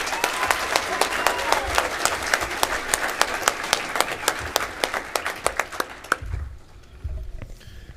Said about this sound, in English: Let's give Lauren and the Fairview FFA a huge blue and gold round of applause.